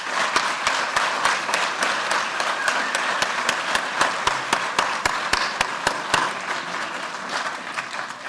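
An audience at a graduation celebration for a university talent development program claps in a steady, dense applause that fills the space, with distinct louder claps cutting through near the microphone.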